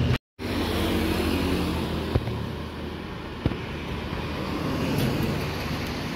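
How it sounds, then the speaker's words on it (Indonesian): A Laju Utama AC 54 intercity bus passes along Jalan Raya Cikidang in Sukabumi: a heavy, droning engine roar with road noise, plus a couple of brief clicks, steady and fairly close. "Melintas lagi bis Laju Utama lokasi Sukabumi AC 54."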